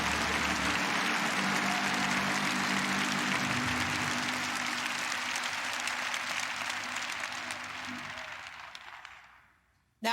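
A church congregation applauds, a full, sustained roar of many people clapping with some crowd noise mixed in, loud and steady for most of the stretch before it thins out and fades to near silence at the close.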